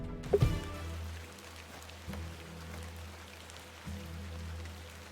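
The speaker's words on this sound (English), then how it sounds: "Behold, I'm standing in the rain." Steady light rain patters softly in the video game The Excavation of Hob's Barrow, joined by a low hum, with a sharp thud at the start and a couple of soft knocks later.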